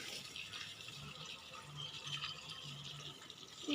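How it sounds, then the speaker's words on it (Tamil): Water runs from a garden pipe onto plants such as tulsi and kanakambaram, a soft, steady splashing and gurgling heard close but quietly, with no talking. "பார்த்தீங்கன்னா இதே பைப்பு தண்ணி போட்டுக்குவோம்."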